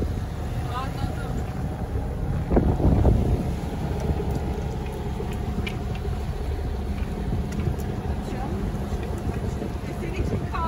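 Steady wind noise blows across a sailboat underway, a continuous broadband rush with a low rumble and a brief louder gust partway through, with faint voices in the background.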